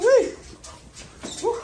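Puppies whimper and yip in two close, high, wavering cries at the start and end, with quieter rustling between them.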